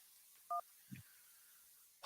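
Brief pair of telephone dialing tones during a radio call-in show as a caller is put on air, a short beep followed by small clicks and quiet, then a burst of noise at the end.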